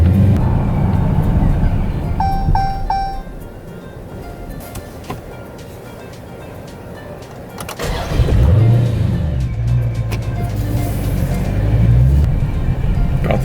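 Procharged car with a problem tune restarts in a neighborhood after stalling, then idles low and uneven, the engine sagging and nearly dying before catching and revving up loud and close, with no talk.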